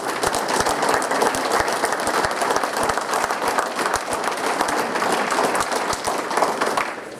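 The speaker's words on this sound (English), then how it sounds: "would you please give them a round of applause?" Dense, sustained applause from an audience at a county gathering, many hands clapping at once in a steady roar that holds for about seven seconds before easing slightly at the end.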